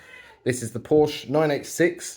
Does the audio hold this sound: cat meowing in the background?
yes